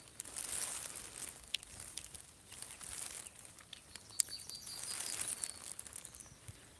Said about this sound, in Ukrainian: У нас тут дощик